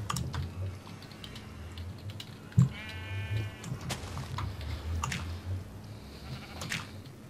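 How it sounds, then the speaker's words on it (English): A sheep bleats once in the Minecraft video game, a clear wavering cry in the middle of the clip. Steady keyboard typing and clicking continue quietly underneath. "In the digging, you might have been hearing, it might have been the sheep, like, eating"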